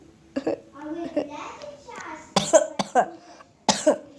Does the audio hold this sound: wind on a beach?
no